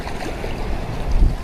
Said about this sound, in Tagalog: Sobrang lakas ng agos.